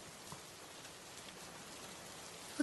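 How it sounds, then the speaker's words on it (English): Rain falls in the video game PK XD as a steady, soft hiss of drops hitting surfaces. It holds even and unbroken throughout, with one small tap near the end and no voices. "Yay, it's raining outside."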